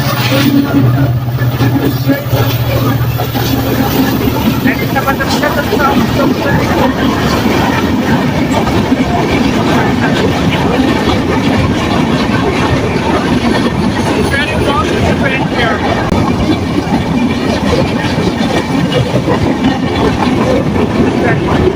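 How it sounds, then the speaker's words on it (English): A large passenger train rumbles through a Bangladesh station, a loud continuous roar with rattling wheels and car noise sustained throughout, with a voice speaking over the passing train. "This is a very big place and very large train."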